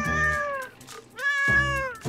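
A cat in a video game meows twice, with a pause between the two clear, tonal, drawn-out calls, close and alone with no speech.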